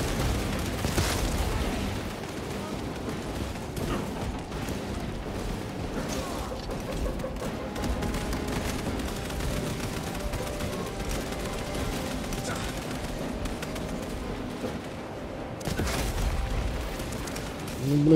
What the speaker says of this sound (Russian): пушка говно, патронов мало, стреляет медленно